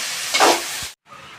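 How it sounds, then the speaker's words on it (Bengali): Potatoes fry in a pan with a close crackling sizzle that swells briefly, then cuts out for a moment before returning more softly. "দেখো দেখো আলু ভাজা হচ্ছে।"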